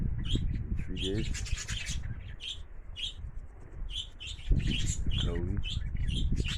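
Loft pigeons flying around outdoors under cloudy skies, giving intermittent chirps and calls near and far against wind noise, with someone speaking briefly.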